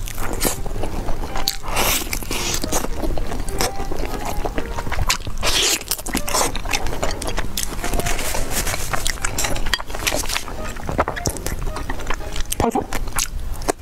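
Honeycomb bitten and chewed close to the microphone, with dense, repeated waxy crunches, snaps and sticky squelches continuing without pause.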